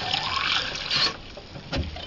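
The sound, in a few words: water rinsing out a hookah vase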